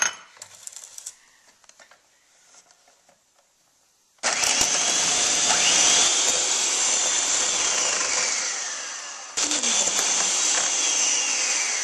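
An electric mixer creams butter and sugar at medium speed, a loud steady whirring motor after some clinking and handling, briefly cutting out and restarting.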